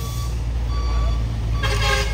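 A large trailer truck reverses with a low engine drone under intermittent reversing beeps, and a brighter tonal burst near the end. The sound is close and fairly loud.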